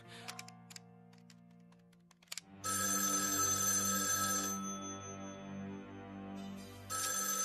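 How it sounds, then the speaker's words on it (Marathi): A telephone rings in a home scene from a Marathi film: after a few faint clicks and taps, an electronic ringtone starts and keeps trilling loudly and steadily to the end, with no voices. "काकू प्लीज फोन घे"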